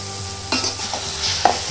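A spoon stirs mutton pieces and a ladle of curry gravy together in a hot pan, with a few distinct scraping knocks over a low, steady sizzle and no talking.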